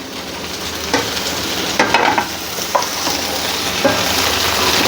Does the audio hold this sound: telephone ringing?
no